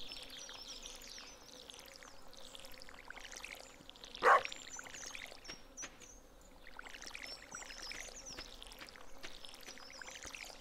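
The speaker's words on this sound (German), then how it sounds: "gießen wir nochmal" Watering crops with a watering can in the farming video game Stardew Valley on a summer day: one short splashing pour stands out at mid-clip over a steady bed of soft insect and outdoor ambience.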